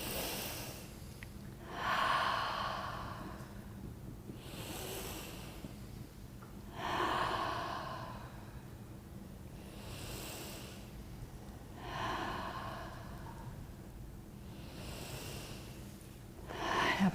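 Slow, deep breathing during a stretching exercise, lying with one hand around the ankle and the other under the foot: about four soft, close breaths, each roughly five seconds apart, with quiet stretches between and no talking.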